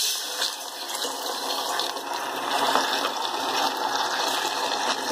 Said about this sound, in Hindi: अब इसमें हम हाफ कप वाटर डालेंगे।